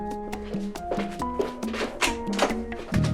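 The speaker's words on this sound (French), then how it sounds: "on frappe à la porte" Someone knocks on a door, a run of hollow thuds and taps in an irregular rhythm, heard over a soft background of sustained musical tones.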